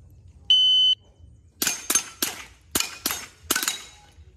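At a shooting competition, a single sharp electronic shot-timer beep, then a quick series of loud, close gunshots in uneven bursts.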